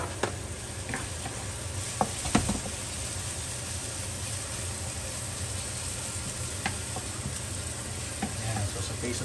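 Onion and garlic sautéing in a pan, a steady sizzle with occasional stirring clinks and scrapes, close and continuous, with faint background noise.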